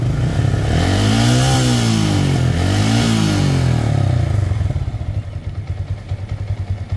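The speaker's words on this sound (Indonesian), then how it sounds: "Ini suaranya sangat lembut. Ini karena knalpotnya pakai knalpot standar ya, aman." A Yamaha Vixion motorcycle engine with a stock exhaust revs up and down twice with a smooth, fairly mellow exhaust note, then settles into a rhythmic, putting idle.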